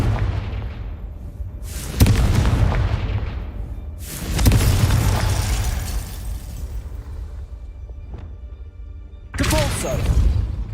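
Confringo fire spell cast in the Hogwarts Legacy video game, three loud booming blasts at roughly four-second intervals, each bursting sharply and then rolling off into a crackling, decaying tail.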